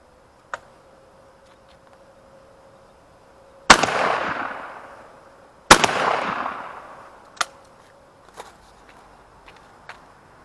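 Two loud 20-gauge shotgun blasts of Winchester Super X shells fired at a pattern target outdoors, each with a long decaying echo, separated by a few seconds, with scattered clicks and handling sounds between.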